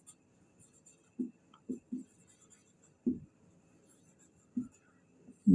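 Pen or pencil strokes writing out a decimal fraction division problem for a class 6 math lesson, a sparse series of short scratchy marks spaced irregularly, close and quiet with silence between.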